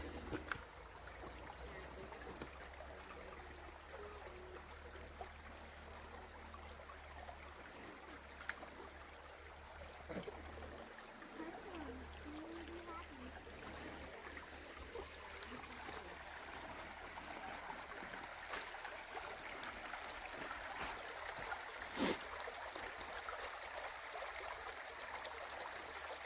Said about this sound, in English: Just high water rushing down through here.